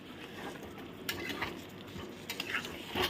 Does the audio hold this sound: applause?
no